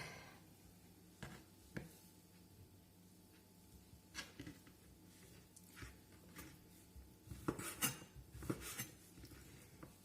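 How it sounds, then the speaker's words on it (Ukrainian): Knife slicing through blessed Easter basket food on a plate, with scattered scrapes and small clinks of blade against the plate in a quiet room, louder clusters near the end. "Переріжу на двоє, бо може буде за за великі куски."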